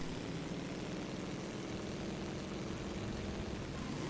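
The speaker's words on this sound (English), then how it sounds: "engines are revving." Racing engines in a 1925 Grand Prix d'Europe race game drone together at the start near Eau Rouge, a steady dense low rumble held throughout with no let-up.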